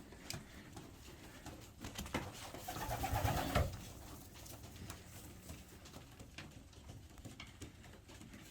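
Pigeons coo softly in their loft on a warm summer day, with a low murmuring swell near the middle among faint background rustles.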